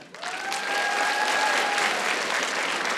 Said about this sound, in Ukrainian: Клавдія Петрівна, ваші оплески.